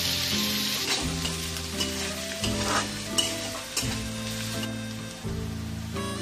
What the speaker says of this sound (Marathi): आपला कांदा सोनेरी भाजून होत आलेला आहे